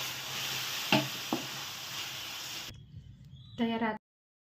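Carrot halva with pure ghee and cardamom powder stirred in a pan, a soft steady sizzle with a couple of spoon knocks, then a brief quiet stretch and a short burst of speech at the end.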